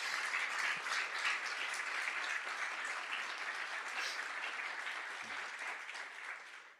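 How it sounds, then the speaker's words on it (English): An indoor town hall audience applauds in a dense, sustained burst of clapping that fades slightly toward the end. "So one more round of applause for all the effort that went into this."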